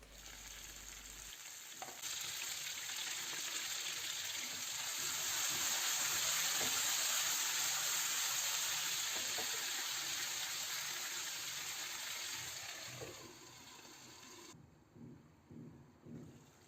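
Vegetables fry in vegetable oil in a covered pan, a steady close sizzle that swells and holds for a long stretch, then drops away and turns to softer crackles near the end.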